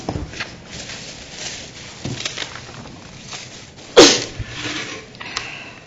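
One sharp, loud sneeze breaks out in a quiet city council meeting room in Lebanon, Oregon, with faint shuffling and low background murmur around it.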